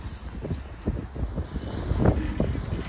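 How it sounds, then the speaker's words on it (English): Strong wind gusting to about 50 on a snowy mountain at Jay Peak, Vermont, roars and buffets the microphone unevenly, with a louder rush around the middle and a steady low rumble throughout. "Definitely gusting to 50 up here."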